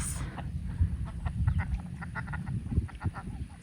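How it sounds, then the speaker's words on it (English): Black-bellied whistling ducks call in a rapid run of short squeaky notes on a farm, several birds close by with no talking. "you see here are black-bellied whistling ducks."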